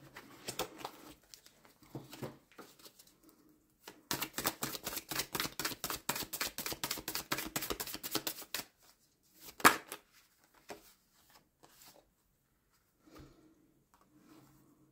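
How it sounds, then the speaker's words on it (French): Tarot cards being shuffled and drawn from a deck: a rapid run of riffling card flicks in the middle, framed by quieter handling rustles and a single sharp snap of a card, without speech. "je vais quand même retirer une carte ici"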